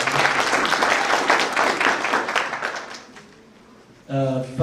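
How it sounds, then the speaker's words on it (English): Warm applause from an audience at a university college event swells loudly, then thins and fades out, followed at the end by a voice starting to speak. "Can we put a very warm round of"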